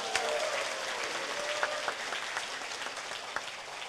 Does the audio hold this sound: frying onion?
no